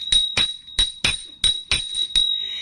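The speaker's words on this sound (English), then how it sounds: "I have to ring the bell for you." A small bell rung repeatedly at a steady quick pace, about eight bright rings with a sustained high tone ringing on between strikes, close and loud.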